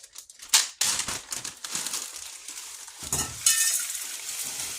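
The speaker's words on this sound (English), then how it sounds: "it's a lot easier to crush your crackers in a Ziploc bag" Ritz crackers are crushed inside a Ziploc bag, producing close, irregular crinkling and crunching bursts of plastic and crumbling crackers with no speech.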